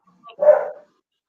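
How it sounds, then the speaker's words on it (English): A single short bark from a dog, preceded by a faint yip, sounds nearby in an otherwise quiet room. "I think the dog agrees."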